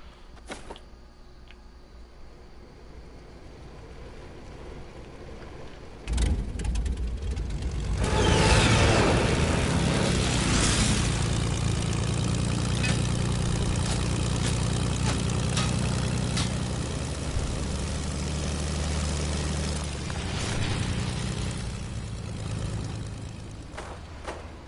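A steady airplane engine drones in a video game, quieter idling at first, then swelling abruptly into a loud, sustained roar that lingers and slowly eases.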